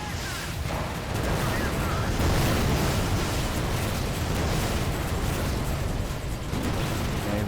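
Tanks and artillery firing in the mobile strategy game League of War produce a dense, continuous barrage of booming blasts and bursts that stay loud and unbroken throughout.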